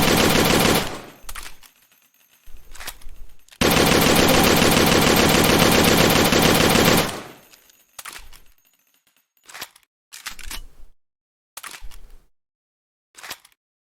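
Galil rifle fire from the Battlefield-style game BF:RI: a long sustained automatic burst, then several shorter bursts and a few single cracks, loud and close with sharp stops between them.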